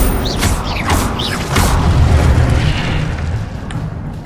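A burst of fire from the Incendio spell in Hogwarts Legacy, a loud whooshing flare with booming, crackling low rumble that swells for a few seconds amid busy game sounds, with a faint voice briefly present.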